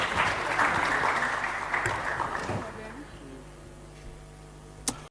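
An audience at a live club quiz applauds, a burst of many hands clapping that is loud at first, then tapers off to near quiet within a few seconds, with a single sharp knock near the end.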